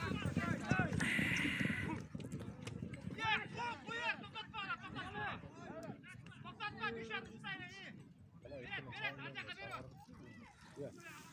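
Horses gallop during a village ulak (kok-boru) game in Bolshevik village. Their hoofbeats patter beneath near, continuous shouting and commentary, with crowd chatter throughout.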